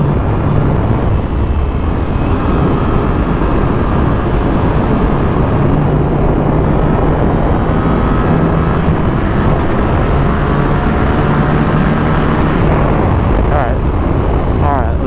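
A Yamaha R7 motorcycle engine revs hard on a dyno, producing a loud, steady, continuous roar with rising engine tones that fills the whole stretch.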